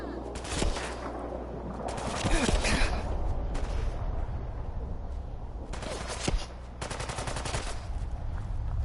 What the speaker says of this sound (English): Don't you be shooting at me.